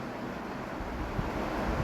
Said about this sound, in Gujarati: થોડું પાણી એડ કરી અને મિક્સરમાં ચટણી બનાવી લઈશું